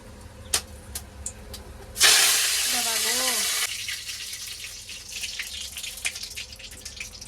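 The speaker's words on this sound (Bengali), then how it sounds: "ফোড়নে দেবো কারি পাতা সর্ষে শুকনো লঙ্কা এগুলো ফোড়নে দেবো" Curry leaves, mustard seeds and dried chillies hit hot oil in a wok with a sudden loud sizzling hiss that stays strong for about two seconds, then settles into a softer crackle with faint background noise.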